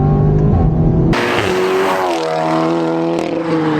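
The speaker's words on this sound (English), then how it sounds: "Now the S3's got that signature DSG exhaust note change." Audi 8V S3 sedan with EA888 engine and a Stone Valvetronic valved catback exhaust, revving loud and close as a DSG gear change cuts in and the exhaust note shifts, a continuous throaty roar with no talk.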